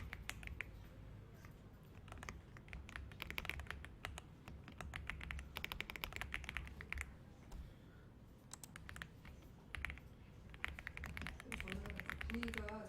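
Rapid clattering keystrokes on a computer keyboard in a PowerPoint class, steady bursts of clicks running the whole time under faint background voices.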